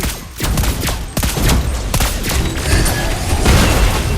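Lesley's gunfire in the Mobile Legends mobile game comes as loud, rapid shots and booming blasts that repeat in quick bursts, layered over busy battle effects, with no voices.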